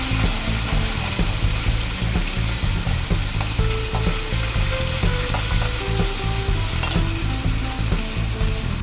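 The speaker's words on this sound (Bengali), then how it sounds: "এবার আমি আস্তে আস্তে করে উল্টে দেবো খুন্তি দিয়ে।" Aar tengra fish frying in hot oil in a kadai, a loud, steady crackling sizzle with occasional scrapes and knocks as a spatula turns the pieces, no voices.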